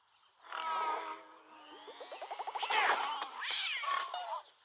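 A cat character in the Rumble Stars mobile game yowls and meows several times, including a rising run of quick pulsed cries in the middle. The sound is close and moderately loud, with no speech.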